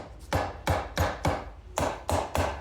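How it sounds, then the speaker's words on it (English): A hammer taps lightly and repeatedly on a Honda Rancher 420 engine part to break it loose, about eight sharp, evenly spaced metallic knocks close by, with no talking. "All right, got the hammer."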